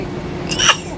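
One short, sharp sneeze, close and fairly loud, over a quiet hum.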